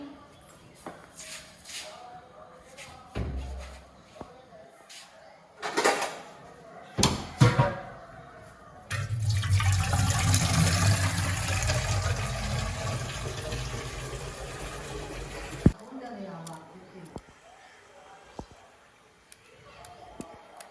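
Water is fetched from a household tap for cooking, with a steady rush of running water lasting several seconds, framed by door knocks, clatter and shuffling footsteps nearby.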